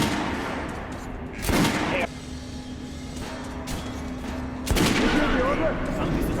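Guns fired on a shooting range in Metro: Last Light Redux, two loud bursts of gunfire around a quiet stretch with a steady hum, no talk.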